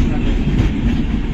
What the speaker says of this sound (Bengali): যেদিক থেকে আমাদের ট্রেনটা আসছে